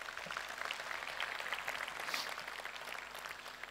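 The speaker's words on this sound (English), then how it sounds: "and I think that deserves a round of applause." An audience at a UD Trucks Quon truck launch event in South Africa claps steadily, a dense, continuous patter of many hands that holds at an even level throughout with no speech over it.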